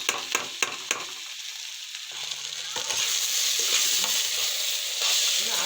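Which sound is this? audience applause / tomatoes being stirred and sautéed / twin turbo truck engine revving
tomatoes being stirred and sautéed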